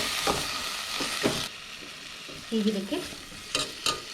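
Spice powders, including turmeric, sambar and biryani powder, are stirred in a pan for egg biryani, with scraping strokes and a soft sizzle that fade partway through, then return with a brief murmur of voice.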